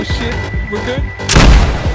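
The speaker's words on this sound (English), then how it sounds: "With the final explosion," A C4 charge detonates to blow open a base in the video game DayZ, one loud close boom bursting in abruptly after a player's brief shouting and lingering as a heavy rumble.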